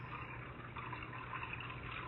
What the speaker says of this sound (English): there's a tunnel with the creek flowing through it